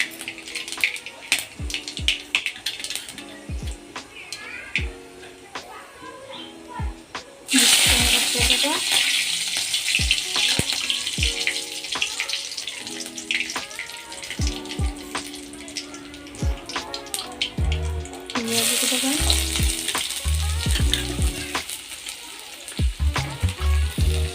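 Onions fry in a pan over a medium gas flame, giving a soft sizzle that jumps to a loud, steady crackling hiss, with clinks and stirring scrapes throughout.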